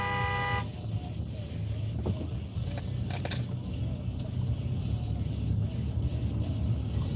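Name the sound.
car horn honking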